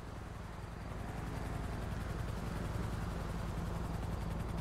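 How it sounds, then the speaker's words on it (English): EMS helicopter in GTA NoPixel, a steady, continuous rotor thump and engine whine holding at an even, moderate level throughout without a break. "I thought that might have been the EMS chopper for a second"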